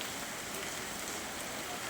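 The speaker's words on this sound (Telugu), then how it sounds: "ఓ మోస్తరు నుంచి భారీ వర్షం కురుస్తూ ఉంది" Moderate to heavy rain, with some wind, falls in Banaganapalli as a steady, dense hiss of drops pattering on surfaces, even and unbroken with no voices.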